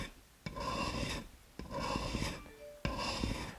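Steady rasping strokes of a blade worked freehand across sharpening media, three long scraping passes with brief pauses between them, close and fairly quiet.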